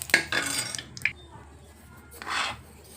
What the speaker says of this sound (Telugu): ఇదిగోండి రవ్వని వేయిస్తున్నాను